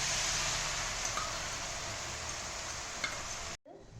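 Ground amla paste for a homemade herbal hair oil hits hot oil and sizzles loudly and steadily up close, then cuts off abruptly near the end.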